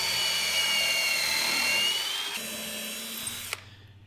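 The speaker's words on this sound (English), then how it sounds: "Using a self-centering bit here to make sure that the screw holes are perfectly centered." A power drill with a self-centering bit bores screw holes in a wenge and birdseye maple keepsake box. The close, whining motor spins high, then drops in pitch, and cuts off with a sharp click near the end.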